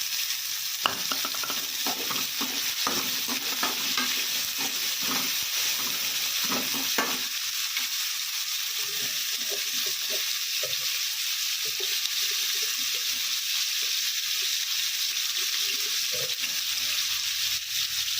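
Tomato and torn leftover chapathi stir-fry in a pan: a spatula scrapes and tosses rapidly at first, then the steady sizzle carries on with lighter, scattered stirring.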